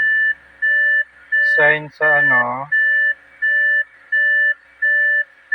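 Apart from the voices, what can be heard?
car door-open warning beep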